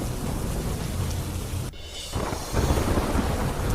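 Heavy rain pours steadily on the Palanpur–Ambaji highway in Gujarat, with rumbling thunder underneath. There is a brief dip in the wash before the dense downpour returns.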